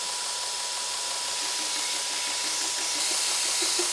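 A grinder fitted with fine 320-grit abrasive polishes an axe head, giving a steady, fairly quiet, continuous hiss and whir with an even tone throughout, slightly louder near the end.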